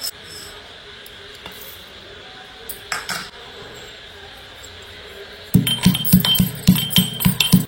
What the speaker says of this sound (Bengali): তারপরে আলুর পরোটা মশলার জন্য ভেজে নিচ্ছি একটু গোলমরিচ